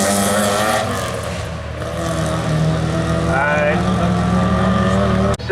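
A Lotus Elan 26R race car with a 1600 engine runs at the Brighton Speed Trials, a loud harmonic engine note that rises in pitch partway through while someone talks over it.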